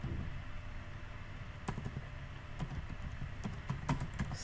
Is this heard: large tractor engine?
no